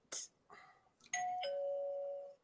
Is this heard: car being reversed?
no